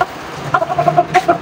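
An old hen kept for market clucks close and loud in a quick run of short repeated notes.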